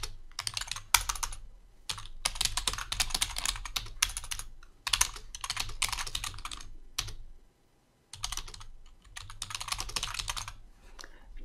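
Someone types on a computer keyboard in steady bursts of rapid key clicks, close and clear, with one brief pause partway through and no voices.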